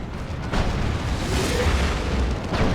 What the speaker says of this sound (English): It's the Sorcerer teleporting in with a special attack, knocking the las cannon scatty.